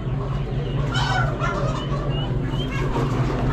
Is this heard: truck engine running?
no